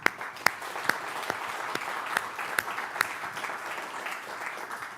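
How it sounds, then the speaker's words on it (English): A round of applause from an audience at a community gathering, a steady wash of many hands with a few louder nearby claps, continuing throughout. "So I want to give a round of applause"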